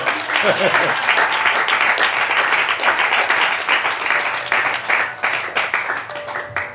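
A church congregation applauds after a sermon on true prophets, with dense sustained clapping mixed with cheering voices that gradually thins toward the end.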